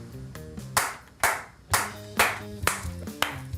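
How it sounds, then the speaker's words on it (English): Someone clapping hands loudly like a maniac indoors, about eight sharp, close claps in an uneven rhythm, each with a short ringing decay, over a faint musical backdrop. "clapping their hands like a maniac"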